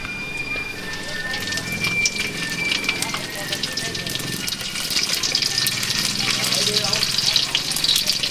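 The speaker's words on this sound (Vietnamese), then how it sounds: "Bây giờ chỉ đợi dầu sôi lên là mình bắt lên mình chiên nha." Marinated salt fish seasoned with fish sauce and pepper fries in hot oil, a steady broadband sizzle and crackle running through the whole stretch while people talk over it.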